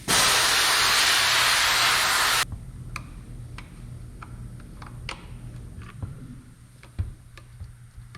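Compressed air blows hard through Stihl 461 chainsaw parts during a sprocket and rim replacement, a loud steady hiss for about two seconds that then cuts off, leaving faint ticks and clicks in a quiet workshop.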